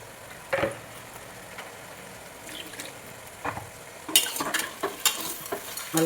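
Native chicken biryani masala with tomatoes stirred in a pot of hot oil: a low steady sizzle under spoon clatter, and a burst of louder scraping and splashing stirs toward the end.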